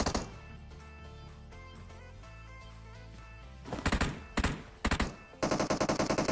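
Gunfire in PUBG, a battle royale shooter: background game audio first, then several sharp, loud bursts of rapid automatic fire near the end, closely spaced and punchy.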